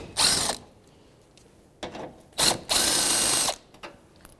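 Ratchet fitted with a 10mm socket backs a bolt out of a headlight mount on a 2013-2018 Toyota RAV4, giving several short, close bursts of rapid clicking with brief pauses between them and no talking.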